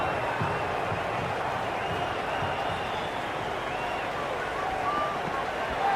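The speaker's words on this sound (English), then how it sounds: "The crowd is electric right now." A stadium crowd in the cricket video game Cricket 26 keeps up a steady, dense roar of cheering and murmur that fills the background at an even level throughout.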